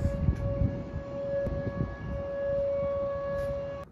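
Tornado sirens wail during a severe storm, a steady sustained tone holding across the whole stretch with rumbling low background noise beneath, no talking.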